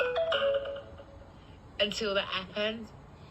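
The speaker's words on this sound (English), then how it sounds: "Can you hear that ringing when it goes through?" An electronic phone ringtone plays in short repeating bursts, moderately loud and close, with a voice speaking briefly between the rings.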